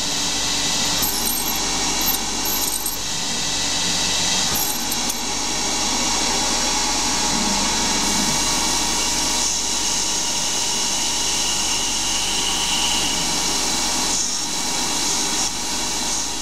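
A CNC lathe parts off washers with a Kennametal insert at a 0.04 mm per rev feed, producing a steady, loud, close screeching whine with a constant machine hum and no talking.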